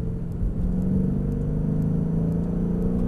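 A Mercedes-Benz E63 AMG Sport on a track at Mercedes-Benz World gives a steady, loud engine drone and rumble, held at a constant pitch from inside the car.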